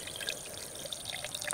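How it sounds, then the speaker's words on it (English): Water is poured into a stew pot over an outdoor cooking setup, a short steady splashing and trickling stream with no talking. "Put some water in there"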